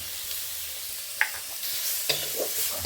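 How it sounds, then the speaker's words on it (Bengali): Mustard paste stirred into spices frying with chilli and coriander powder for pineapple chutney, a soft steady sizzle with occasional clinks of the spoon against the pan. "এরপর বাটনা সরষের বাটনা মিশিয়ে দেওয়া হলো।"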